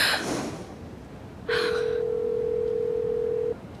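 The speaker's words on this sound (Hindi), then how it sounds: "चलो मानूर, फोन उठाओ" After a brief voice, a telephone sounds a single steady electronic tone lasting about two seconds, clear and fairly close.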